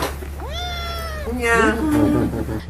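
A house cat gives two drawn-out, rising meows close by, the second more strained, over a steady low hum with faint talk in the background.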